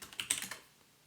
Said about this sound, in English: I'll type in exit to disconnect.